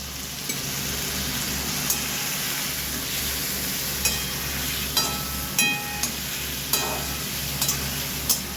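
Fish curry ingredients with a spice paste and a splash of water sautéing in a pan for a Bengali katapona fish jhol with potato, pointed gourd and okra, giving a steady close sizzle broken by scattered scraping stirs.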